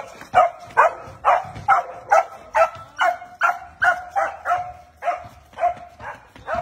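Dogs bark in a steady run of sharp, repeated barks, about a dozen evenly spaced over several seconds, close and fairly loud with no talking.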